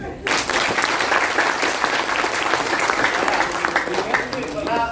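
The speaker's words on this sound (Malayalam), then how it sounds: "അപ്പൊ ഒന്ന് നന്നായിട്ട് കൈയടിച്ചൊന്ന്" Audience at a Malayalam talk breaks into sustained, dense applause after a brief silence, the many hands clapping steadily and loudly through to the end.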